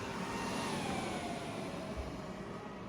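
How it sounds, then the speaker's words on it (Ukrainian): Faint, steady whooshing hum of an EcoFlow Delta 2 portable power station's cooling fans running continuously, with a slight whine rising and falling; no voices. "Коли ми використовуємо потужну техніку, кулери починають працювати голосніше."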